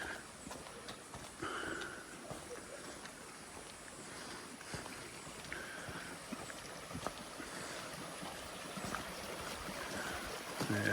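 Shady Creek in Litchfield National Park flows with a soft, constant wash of water, faint and distant, with occasional light knocks and footsteps over it.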